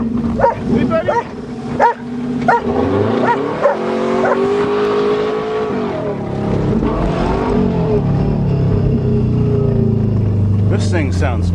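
A Subaru Legacy's engine drones and rises in pitch as it accelerates on a drive, loud and close, while a dog barks sharply several times at the start and people speak over it.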